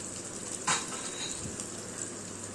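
Vegetables sizzle softly as they sauté in a pan, with a brief scrape of stirring partway through. The sound stays quiet and even.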